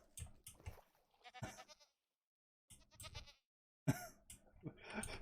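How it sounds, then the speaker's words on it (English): Goats in a boat in the video game Minecraft give several short, wavering bleats in scattered bursts, fairly close and clear, with quiet gaps between calls. "Two goats in a boat."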